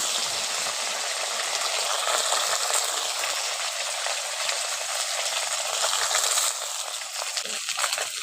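Small chela fish fry in hot mustard oil in a heated kadai (wok), giving a loud, continuous, close sizzle and hiss that holds steady before easing slightly near the end.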